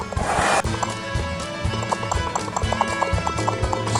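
Horse hooves clip-clop in a steady, busy rhythm over background music, with a whinny-like burst at the start; the sound is playful and cartoonish.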